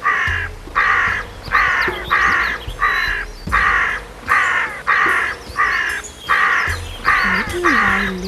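A crow caws again and again in a steady rhythm, about eleven loud, harsh calls spaced close together, near and clear with no other voices.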